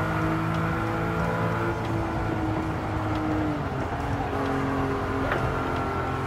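Porsche 959 supercar with its engine and turbos working hard at speed, a steady, loud and continuous drone with a layered whirring hum throughout and no pauses.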